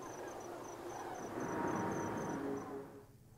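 A rare cicada in the survival game AWAY: The Survival Series chirps in a steady run of evenly spaced, high, thin pulses over soft ambient game noise, with no talking.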